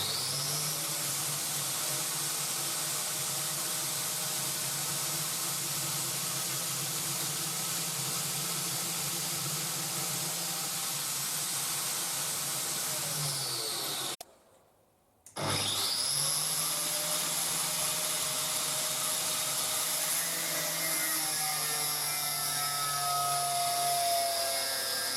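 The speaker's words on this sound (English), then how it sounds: "Now the station is ready for hand cutting with an angle grinder with a guide." An angle grinder mounted on a DIY sliding guide cuts steadily with a loud, harsh grinding whine, drops briefly to near silence around the middle, then spins back up and keeps cutting close by.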